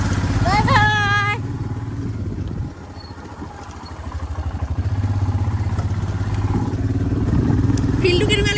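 A Himalaya motorcycle running as it is ridden, a steady throbbing engine note that dips briefly and then picks back up, with people talking close by.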